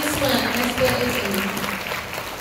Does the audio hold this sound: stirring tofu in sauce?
no